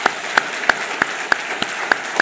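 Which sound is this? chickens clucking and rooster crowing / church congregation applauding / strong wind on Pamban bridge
church congregation applauding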